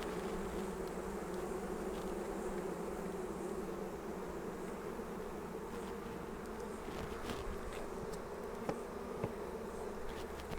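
A dense, continuous buzzing of many honeybees swarms at close range around a hive as the lid is lowered, steady throughout with faint scattered clicks and knocks.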